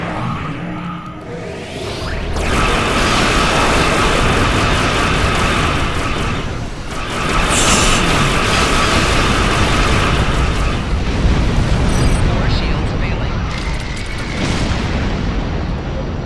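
In the space game Star Trek Online, a Mega Plasma Torpedo fires and explodes amid heavy starship combat, a loud sustained roar of booming blasts and whooshes that swells, dips briefly, then rumbles on continuously.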